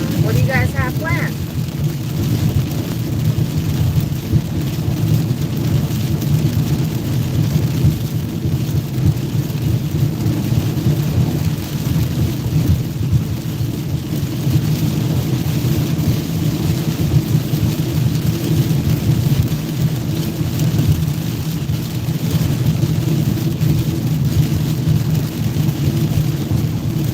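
Steady heavy rain with thunder rumbling through a storm in Georgia, heard from inside a vehicle on a road trip, a dense constant wash of low roar lasting throughout with no clear breaks.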